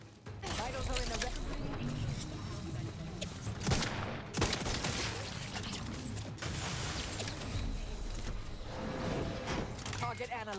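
Rapid automatic gunfire and mechanical clatter from a firefight in the video game The Outer Worlds 2, dense and loud, with a few sharper bursts near the middle and in-game voices underneath.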